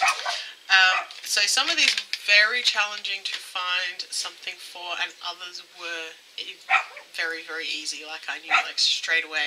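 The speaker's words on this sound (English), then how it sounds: "Excuse the dog barking in the background." A dog barks somewhere in the background of an indoor room, its yaps faint and partly buried beneath a woman's continuous, close talking.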